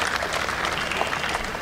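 Spectators at the WTA 125 Mumbai Open women's tennis tournament applaud a point, a dense, even patter of clapping held steady for under two seconds with no voices on top.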